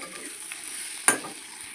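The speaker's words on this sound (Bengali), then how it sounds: "এটা হচ্ছে বাঁধাকপি আর আলু দিয়ে ভাজা হচ্ছে" Close, steady sizzling of cabbage and potatoes frying in a pan, with a single sharp scrape of a utensil partway through.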